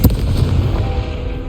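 A Confringo fire spell from Hogwarts Legacy bursts with a single loud, booming blast that rumbles and fades over a second and a half.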